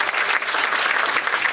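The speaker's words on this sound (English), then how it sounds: "Ladies and gentlemen, round of applause for these amazing young ladies" A gala crowd gives a loud, dense round of applause for two young sisters, sustained clapping throughout with no gaps.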